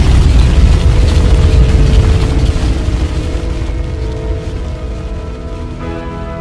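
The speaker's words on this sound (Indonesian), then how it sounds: "Bintang akan runtuh oleh gravitasinya sendiri dan meledak menjadi hypernova." A deep, booming hypernova explosion rumble that rolls on and slowly fades, loud and heavy in the low end.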